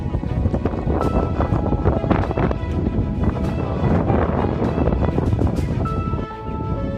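Strong wind roars steadily across the microphone on a hike at Cape D'Aguilar, Hong Kong, a constant loud buffeting rush with no voices.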